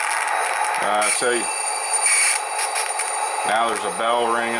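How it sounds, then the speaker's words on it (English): A repeated bell tone rings steadily from a Soundtraxx Tsunami 2 model train sound decoder while the locomotive idles, over a hiss of static, with someone talking at intervals. "now there's a bell ringing"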